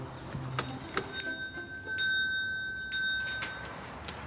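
A house doorbell worked by a bell pull jangles in several quick metallic rings, clear and ringing out with tinkling overtones between short knocks, with no voices.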